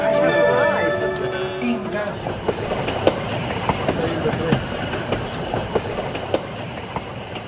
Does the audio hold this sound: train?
yes